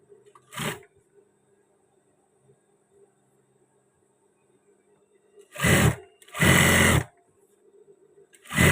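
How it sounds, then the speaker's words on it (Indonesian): A sewing machine stitches batik fabric in short bursts: one brief run, a long quiet pause, then two longer runs close together and a final start, all close and without talk. "Kita jahit yang sebelah sini ya."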